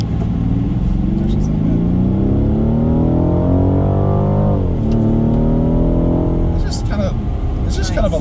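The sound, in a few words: Rolls-Royce Wraith accelerating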